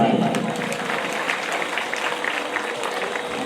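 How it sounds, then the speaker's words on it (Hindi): Loud, sustained applause from a crowd at a Manas mandali performance, many hands clapping together in a dense steady roar. "जोरदार ताली से सम्मान।"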